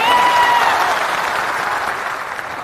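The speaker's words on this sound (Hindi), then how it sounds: "एक बार जोरदार ताली से इनका स्वागत कीजिए।" An audience in a hall in Bihar claps loudly to welcome a speaker at a political gathering, a dense, sustained wash of applause that slowly fades, with no voices over it.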